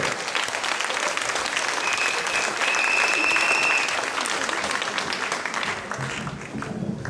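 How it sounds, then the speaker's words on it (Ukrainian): Steady, dense applause from a concert audience welcoming a humorist poet onto the stage, loud and continuous throughout with a faint whistle in the middle. "Будь ласка, аплодуйте."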